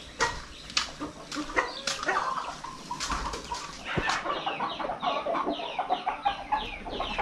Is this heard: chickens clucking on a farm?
yes